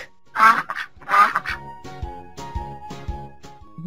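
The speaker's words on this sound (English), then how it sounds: "Duck." A duck quacks two loud, close calls near the start, then softer repeated honking quacks follow in a short series, no voices.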